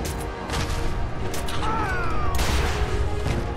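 Rapid booms and crashing blasts from Fallout 4 combat rumble steadily throughout, with sharp bursts and a rising whistle-like tone mixed in.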